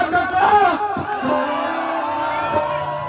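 A crowd at a Vidyapati festival stage show in Faridabad whoops and cheers in a lively burst that trails into a steady, fairly loud roar, with voices shouting over it.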